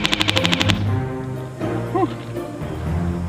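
Airsoft BBs striking carpet-style EVA foam: a quick run of about eight sharp, evenly spaced impacts up close, followed by a man groaning and vocalising.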